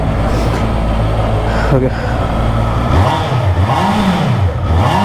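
A 2025 Honda CBR650R superbike with its 650cc inline-four engine idles and revs, the pitch sweeping up and down in several loud, close blips, with a brief voice heard over it.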